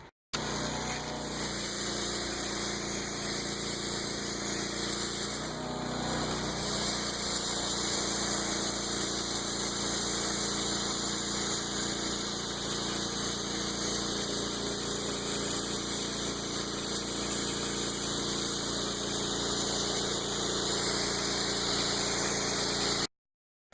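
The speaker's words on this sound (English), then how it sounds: "Now all we have to do is start the machine and start cleaning." Pressure washer cleaning machine running continuously, a steady loud engine and pump drone that holds unchanged for over twenty seconds with no talking.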